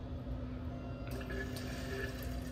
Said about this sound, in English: It was right here, but I'm just getting some water.